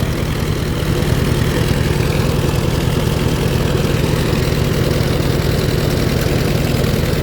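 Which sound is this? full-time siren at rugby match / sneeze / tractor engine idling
tractor engine idling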